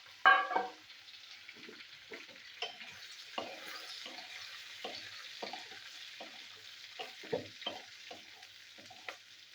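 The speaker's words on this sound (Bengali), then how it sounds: "পেঁপেগুলো তেলের মধ্যে একটু ভেজে নেবো।" Pieces of papaya frying in hot oil, with a steady soft sizzle broken by repeated short stirring scrapes and clatters of a spatula in the pan, close by and fairly quiet, with no talking.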